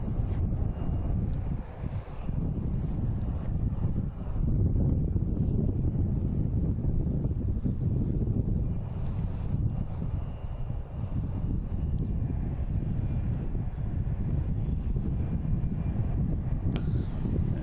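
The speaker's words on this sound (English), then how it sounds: "Also have Etihad coming in here at 787-900 from Abu Dhabi over Pleasure Bay" Etihad Boeing 787-9 airliner arriving over Pleasure Bay at Boston Logan from Abu Dhabi, a steady broadband rumble of jet engine noise with wind buffeting the microphone, continuous and moderately distant throughout.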